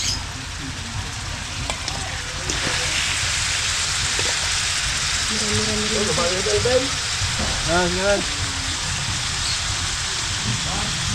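Steady sizzling and crackling of goat caldereta ingredients frying in a pot, with a voice murmuring faintly underneath partway through.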